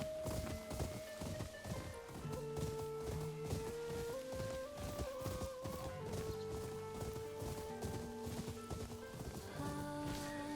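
Horse hooves galloping in the video game Ghost of Yōtei, a rhythmic clip-clop carried under loud layered game music that plays throughout, with no voices.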